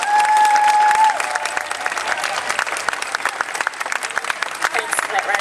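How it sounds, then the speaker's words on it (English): Crowd at an outdoor Ban Live Exports rally outside Parliament House, Adelaide, applauds with dense clapping and scattered sharp claps, fairly close, with a brief voice near the start. "Please give yourself a well-deserved applause."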